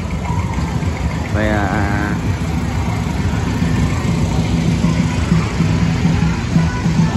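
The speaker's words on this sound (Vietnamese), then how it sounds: "rồi bỏ lên một chiếc xe kéo, xe máy cày để kéo đi" A tractor engine pulls a lantern float through a Mid-Autumn Festival procession in Vietnam, giving a steady, loud rumble that runs unbroken from start to finish, with a brief voice heard over it.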